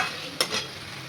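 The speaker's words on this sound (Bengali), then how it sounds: "কড়াইতে একটু ধৈর্য ধরে তোমাদের একটু নাড়তে হবে, কষাতে হবে" Mutton braises in a wok while a spoon gives a couple of quick scraping stirs over a faint, steady sizzle, brief and quiet.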